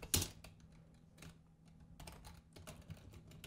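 Typing on a computer keyboard while coding a Unity crouching tutorial: a soft, fairly close stream of quick irregular key clicks, with one louder strike at the start, heard alone without talk.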